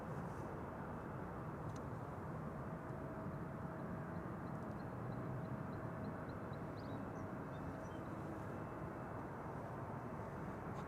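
An Airbus A330neo airliner at Amsterdam Schiphol Airport roars as a steady, broad jet-engine rumble, loud and continuous throughout with no clear rise or fade.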